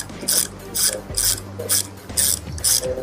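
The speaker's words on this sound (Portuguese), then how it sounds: "como é fácil tirar com a catraca" A ratchet tap wrench turns a hand tap through a threaded hole, giving repeated bursts of crisp clicking about every half second, close and loud, with grinding metal in between.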